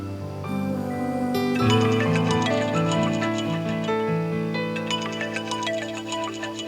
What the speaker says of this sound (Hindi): अरे डैड का फोन है